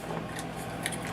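Scissors cutting through a paper pattern for a DIY pattern holder, a brief soft snip, close by, with no voices.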